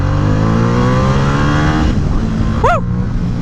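A motorcycle engine pulls hard under acceleration while riding, a loud, close, sustained drone rising in pitch, then easing off and climbing again briefly near the end, with wind roar beneath and no talking.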